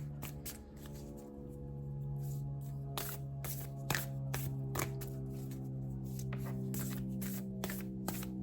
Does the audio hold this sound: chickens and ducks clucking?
no